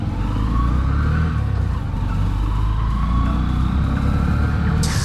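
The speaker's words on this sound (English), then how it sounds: "let's ride it and see how this bike feels and behaves in the real world" Honda CD110 Deluxe commuter motorcycle riding on the road, a steady near engine hum with wind and road noise throughout, slight revving changes, no voices.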